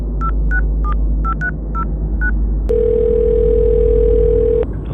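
Telephone call being placed: a quick run of touch-tone dialing beeps, followed by a steady, loud dial or ringback tone that holds for about two seconds before cutting off.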